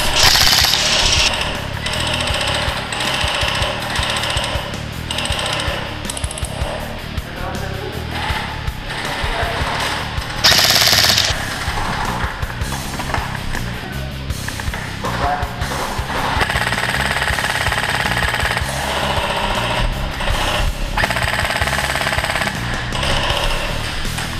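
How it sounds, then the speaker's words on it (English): An AEX Warfighter DMR airsoft electric gun fires in rapid mechanical bursts with short pauses, loud and close, the rattling cycles repeating for about twenty seconds with possible faint background voices. "The Airsoft Extreme Warfighter DMR shot extremely smooth"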